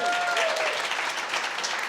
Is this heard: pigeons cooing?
no